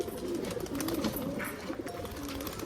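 Pigeons coo steadily in low, throaty rolling calls, several overlapping birds close by at a home pigeon loft, with faint chirps in the background.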